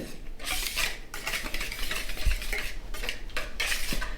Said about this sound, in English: I'm going to whisk this together until mixed